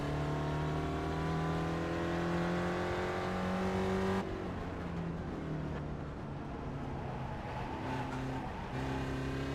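Spec Racer Ford race car engine in iRacing at the Long Beach street circuit, a loud close engine note with rising gear pulls, a sudden drop around a shift, then steady revving and another climb.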